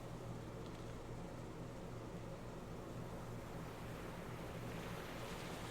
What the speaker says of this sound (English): Only the sound of the wind and the waves make a noise.